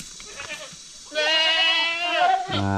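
A goat bleats loudly and close up in one long wavering call, followed by the start of a second bleat, on a Philippine backyard farm with no talk over it.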